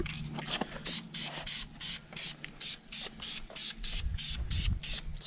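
Rapid bursts of spray paint hiss as a third coat goes onto a Ford F-150 tow hook on a supercharged truck, a steady train of short, close sprays with brief gaps between them.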